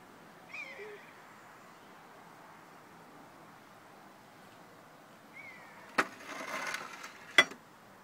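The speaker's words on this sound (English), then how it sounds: "There's a big old buzzard making a noise." A large buzzard calls at a distance, a brief whistled cry near the start and another faint one later, followed by a couple of sharp close knocks and rustling in a quiet outdoor setting near a pub.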